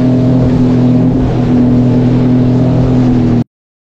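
A new Sea-Doo Explorer 230 jet ski engine runs loud and close with a steady droning hum and whine that holds even for over three seconds, then cuts off abruptly into silence.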